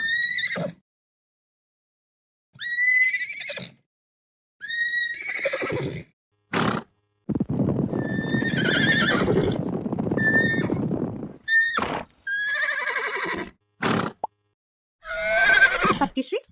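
A horse neighs in a series of separate whinnies with pauses between them, loud and close, interspersed with a longer low rumbling snort-like stretch in the middle.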